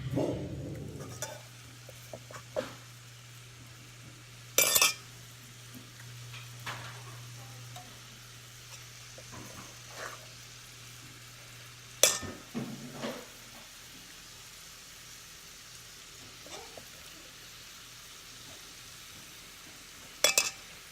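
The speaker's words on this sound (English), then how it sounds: "We're going to brown them in the pan, and then we're going to bake them in the oven after that." Bison meatballs browning in a hot pan give a steady low sizzle and frying hiss throughout, broken by a few sharp clinks and scrapes of a utensil against the pan; no voices.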